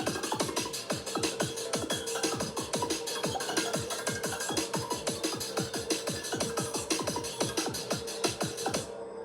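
Haunting synth music built from an Aurora Pad layered over a steady, fast percussion loop of crisp repeated hits, playing continuously at moderate level before stopping abruptly at the end.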